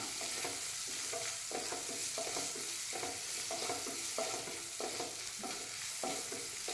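Ginger, garlic and green chilli sauté in a pan, a soft, even sizzle beneath a regular rhythm of spatula strokes scraping back and forth, fairly faint and without speech.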